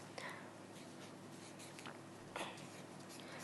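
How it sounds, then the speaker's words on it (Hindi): A pen writes a name on paper, producing faint scratchy strokes in short bursts, very quiet and close against a steady background hum. "तो हमने इस कागज पर लिखा सपना।"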